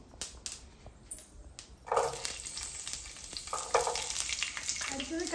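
Garlic dropped into hot oil with mustard seeds sizzles and crackles close by, rising in bursts as it is stirred.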